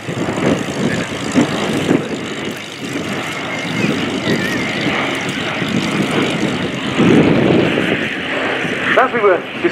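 Propeller aircraft passing overhead in an RAF 100 flypast at the Royal International Air Tattoo, a steady broad engine drone that stays loud throughout with crowd and commentary noise underneath.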